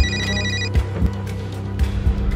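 A phone rings with a repeated electronic tone that cuts off partway through, over a loud steady background hum marked by a few thumps.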